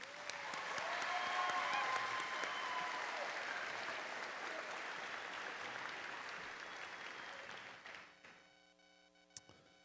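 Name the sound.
round of applause for the pianist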